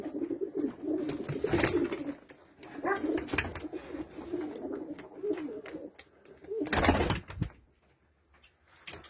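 Pigeons coo softly and continuously in a coop, several birds overlapping in low throaty calls, with a brief flutter of wings partway through.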